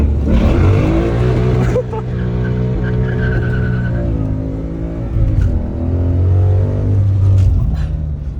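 A Ford Mustang drives off and revs hard at a staged event with a crowd nearby, its loud engine note rising and falling in steady pulls with a brief tire squeal, while voices chatter over it.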